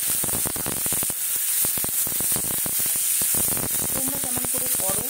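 Chopped ginger, onion and capsicum for vegetable chop fry in a little oil, giving a harsh, crackling sizzle with rapid spattering pops, steady and close throughout, with a faint tonal hum near the end.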